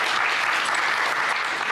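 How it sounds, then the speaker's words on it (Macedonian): A studio audience on a televised quiz show breaks into applause. The dense, loud clapping fills the full short burst without pause. "аплауз"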